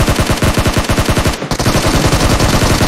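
Rapid automatic gunfire rattles in a video game, a dense rhythmic burst of shots with a brief pause before the firing resumes, loud and close.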